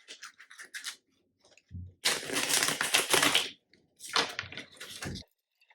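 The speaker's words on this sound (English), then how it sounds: "Do a shuffle." A deck of tarot cards being shuffled up close, with short riffling bursts and crisp card rustles separated by brief pauses, quiet and free of voices.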